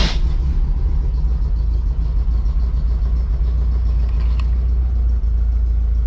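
Classic Volkswagen engine cranking into life and settling into a low, throbbing idle with a steady rhythmic rumble, close and loud, with a brief blip of revs near the end.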